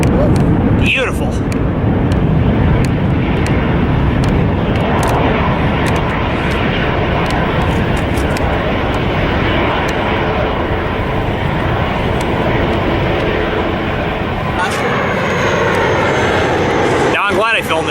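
A Bombardier Q400 turboprop at Lindbergh Field, San Diego, roars loudly and continuously with a steady engine drone, close and sustained for the whole stretch, with a few sharp clicks over it.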